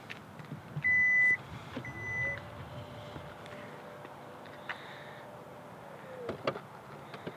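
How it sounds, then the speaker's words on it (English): A 2023 Genesis GV70 Electrified EV's power liftgate closes with a soft electric motor hum, preceded by two short chime beeps, then a latch thunk as the vehicle locks, heard at close range outdoors. "it's going to close this and secure the vehicle."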